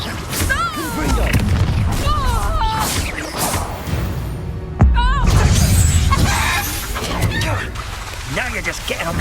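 Spell-combat effects in the Hogwarts Legacy game: a loud blast and crash from the fire-blasting spell amid swirling magical whooshes, with a sharp impact near the middle and voices talking throughout.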